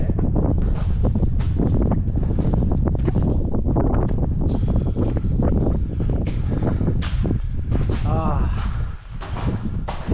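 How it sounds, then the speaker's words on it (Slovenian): Strong wind roars through a keyhole-shaped natural rock hole on Staničev vrh in the Kamnik–Savinja Alps. It is loud, constant and buffeting, with rushing gusts, and a voice speaks over it. "Vleče pa kar močen veter skozi luknjo, skozi preduh"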